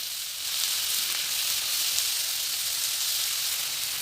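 Ground onion and garlic paste sizzles in a hot frying pan, a steady bright hiss that swells slightly after the start and continues evenly, close and alone.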